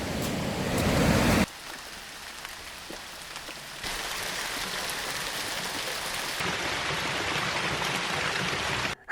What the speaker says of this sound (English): It don't rain often in Spain, but when it does, it rains.